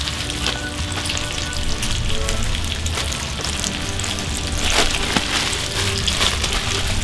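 Bacon frying in a pan gives a dense, continuous sizzle and crackle, close and steady throughout with no talking.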